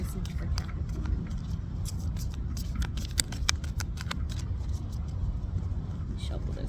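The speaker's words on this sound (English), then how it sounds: "Let me shuffle this one more time." Deck of oracle cards being shuffled by hand, a soft rapid patter of flicking cards in quick repeated bursts, faint and close against a low background hum.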